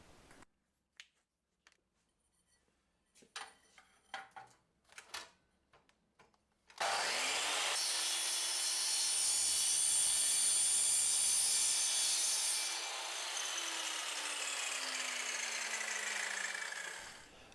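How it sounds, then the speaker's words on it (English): A piece being cut off aluminium tubing. A few light taps and knocks come first, then a loud, steady, harsh cutting whine holds close for about ten seconds and drops slightly in pitch before stopping abruptly. "just cutting a little piece of that aluminium off"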